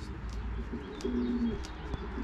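Racing pigeons at a loft at the start of the flying season, a soft cooing call rising briefly over a low, steady background rumble, with faint scattered noises around it.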